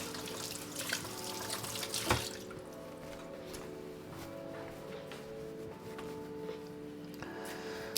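Tap water runs steadily into a sink as a spring onion is rinsed beneath it, a continuous close splashing with a brief louder burst near the start, no voices.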